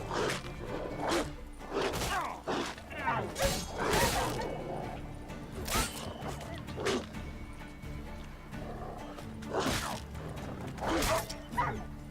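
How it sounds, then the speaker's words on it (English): Dogs in The Witcher 3 bark and yelp in a string of sharp, repeated bursts during a fight, mixed with clattering combat noises and whooshes at moderate level. "I got in a fight with some dogs"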